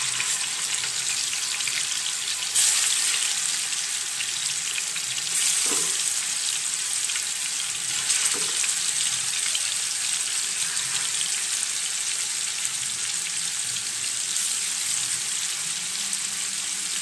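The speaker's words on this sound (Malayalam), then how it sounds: "നമുക്ക് മീൻ ഇനി വറുത്തെടുക്കാം." Fish fries in hot oil in a pan with a steady, bright sizzle that holds evenly throughout. A couple of brief soft knocks come through near the middle, and no one speaks.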